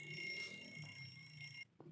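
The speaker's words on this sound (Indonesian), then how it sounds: "Berisik banget sih alarm." An alarm clock rings at dawn with a steady high electronic beeping that holds for well over a second, then stops abruptly, leaving a quiet room.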